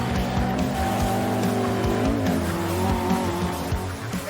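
Mark 1 Lotus Cortina with a twin-cam 1.6-litre engine racing at Cadwell Park on a sunny day, its engine buzzing loudly up close while the tyres squeal through a corner, with no talk.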